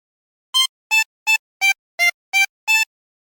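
Harmonica playing a phrase of the Squid Game theme: seven short, evenly spaced blown and drawn notes, clear and close, alone with silence around them.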